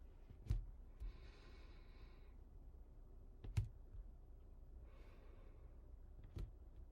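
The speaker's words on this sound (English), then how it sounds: "Let's cut the deck here." A tarot card deck being cut by hand, with soft papery riffling rustles and a few sharp, crisp taps spaced several seconds apart. The sounds are quiet and close against a faint room hush, with no talking.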